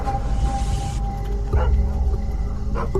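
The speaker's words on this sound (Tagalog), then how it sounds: "Isang dosenang aso ang tumatahol mula sa malayo." About a dozen dogs bark faintly in the distance, a few scattered yelps rising over a steady low rumble of background noise.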